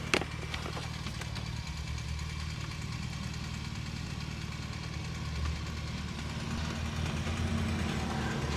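A car with a modified catback exhaust idles steadily and nearby, a low, continuous rumble that holds even from start to finish with no revving.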